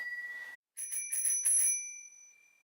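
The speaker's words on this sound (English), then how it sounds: "Most of us carry a small bell in our bicycles just to announce our presence to motorists" A bicycle bell rings in a quick series of about four bright dings, with the tone lingering and fading out after a brief pause at the start.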